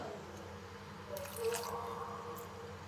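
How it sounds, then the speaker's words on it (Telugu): Homemade pani puri broth being poured into a pan produces a faint, brief liquid splash and drip against a quiet kitchen background, with no talking. "మనం పానీపూరికి రెడీ చేసుకున్నాం కదా చారు, ఇది కూడా కొంచెం వేసి"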